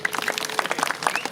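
An audience at a Balinese comedy performance claps in a quick, uneven patter of many hands, moderately loud and close, with no voices over it.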